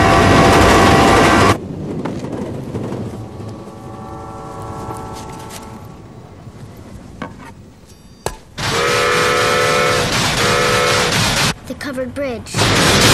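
A diesel model train rolls along a toy railway amid a busy scene, with clattering and rumbling passages, whistle-like tones and bursts of other sound, while voices talk over parts of it.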